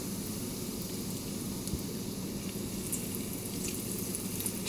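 Homemade chicken nuggets frying in hot oil give a steady, soft, even sizzle that holds without a break, close up and fairly quiet, with no voices.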